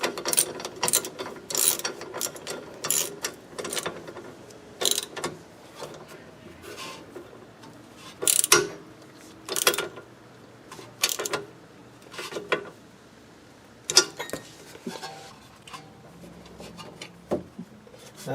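Bursts of quick ratchet-wrench clicking, close and repeated in short runs with pauses, while tightening a rear coilover suspension bolt on a 2001 Lexus IS 300 fitted with Tein Street Basis Z coilovers.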